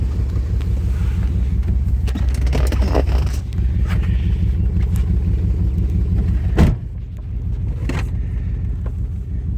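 A 2002 Dodge Durango with a 4.7-litre engine rumbles steadily as it drives back and forth in a yard, a low continuous engine note with brief clunks and rattles.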